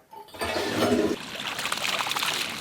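A toilet is flushed, and water gushes loudly before settling into a steady trickling, running flow, with no voices over it.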